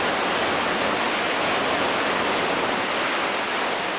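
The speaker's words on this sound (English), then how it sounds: "The next bridge was built over the lip of a waterfall which plunged 120 feet." A waterfall plunging 120 feet gives a loud, steady, dense roar of falling water, unbroken and even throughout with no voices.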